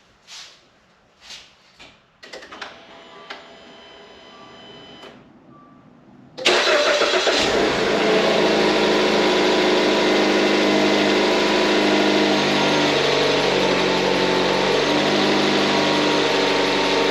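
A Dodge Dart, just repaired for a no-crank fault, clicks a few times, then cranks and catches and settles into a steady, loud, close idle that runs evenly to the end.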